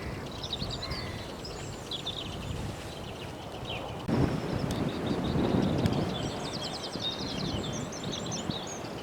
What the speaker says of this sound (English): Oops, sounds like the crows are already up and about.